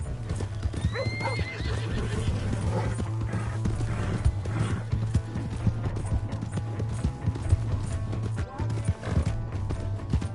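Hooves clip-clop rapidly in a steady galloping rhythm in the video game Red Dead Redemption 2, with a horse whinnying early on, over mechanical clanks and faint voices.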